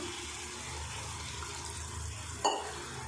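Water poured into a pan of omelette curry gives a soft, steady trickle that ends in a short louder splash just before the end.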